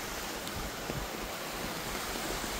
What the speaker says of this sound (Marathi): केवढा मोठा वॉटरफॉल आहे ना